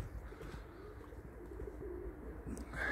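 Pigeons kept by a Polish fancier in Elbląg coo softly and repeatedly close by, low murmuring calls over faint outdoor background, with a brief chirp near the end.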